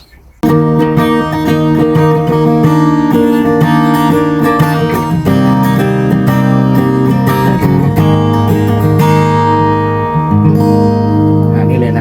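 A used 41-inch Victoria acoustic guitar with a repaired neck is strummed and picked for several seconds, with bright ringing chords and sustained notes. It sounds close and fairly loud, with no talking.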